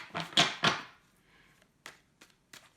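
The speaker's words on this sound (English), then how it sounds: "Give it another shuffle." Tarot cards shuffled by hand during a reading, giving a few quick riffling bursts up front followed by fainter, scattered card taps and slides, close and alone without talk.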